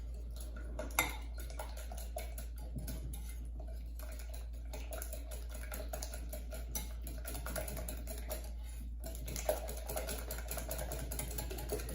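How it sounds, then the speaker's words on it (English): A banana pancake batter is whisked in a bowl, giving a quiet, rapid, steady clinking of whisk against bowl over a low background hum. "So I'm going to whisk all this together."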